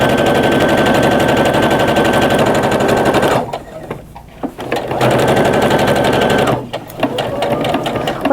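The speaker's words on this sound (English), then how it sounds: "I'm just going to zip through the rest of this seam and then chain piece" A sewing machine stitches a pillowcase seam in fast, loud mechanical bursts, running steadily, pausing briefly twice, then starting again.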